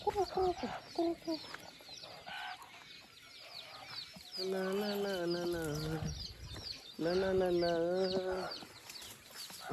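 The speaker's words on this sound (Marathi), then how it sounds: "कोंबड्या" Farmyard chickens cluck and squawk in a loose, repeated series, with two longer drawn-out calls standing out near the recorder, while people talk intermittently in the background.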